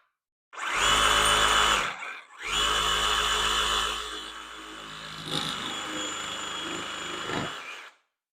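A reciprocating saw cuts through a workpiece held down against a makeshift workbench, its loud buzzing motor running in two bursts: a short run, a brief stop, then a longer cut whose tone roughens as the blade bites and draws back.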